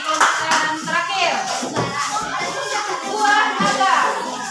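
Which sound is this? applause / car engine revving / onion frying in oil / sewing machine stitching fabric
applause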